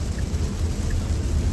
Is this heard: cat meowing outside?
no